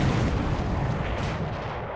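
Continuous roaring naval main battery gunfire in the War in the Pacific: Admiral's Edition video game, dense overlapping booms blending into a steady loud rumble across the whole stretch, with no voices over it.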